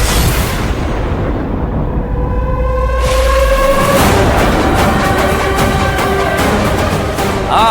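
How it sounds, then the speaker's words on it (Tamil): Firecrackers burst in rapid, crackling volleys, loud and close, with a whistling streak rising before a dense run of sharp pops. "பட்டாசு வெடிக்கடா வெடிக்கடா, வெடிக்க வெடிக்க வெடிக்க"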